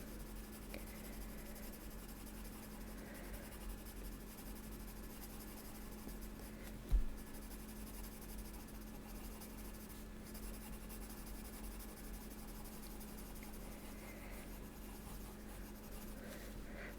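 Square colored pencils scratch softly and steadily across the paper of an adult coloring book, a faint continuous rasp close by with no talking.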